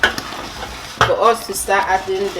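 A lid is set onto a cooking pot with a sharp metallic clank, followed by lighter rattles and scrapes of cookware while food faintly sizzles underneath.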